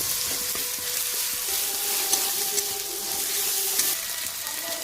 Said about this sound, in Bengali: আমি এটা একটু লাল লাল করে ভেজে নেব